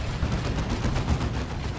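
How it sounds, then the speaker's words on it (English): A lascannon fires in the strategy video game Dawn of War 2 amid a dense, continuous rumble of distant battle gunfire and explosions. "Las Cannon is trying to shoot the Tactical Marines"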